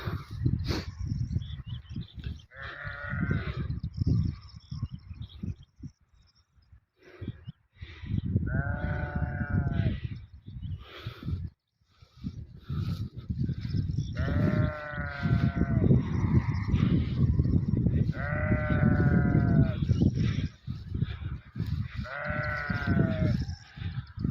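Sheep bleat repeatedly, several drawn-out wavering calls at close range, with a low rumble of wind or movement between them and no talking.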